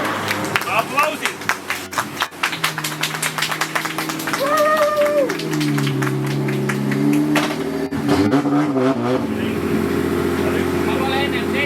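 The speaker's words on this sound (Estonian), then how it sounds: "Aplausid!" A drifting event audience claps in a rapid, scattered patter for the first few seconds, over the steady drone and rising whine of a drift car's engine that carries on alone afterwards.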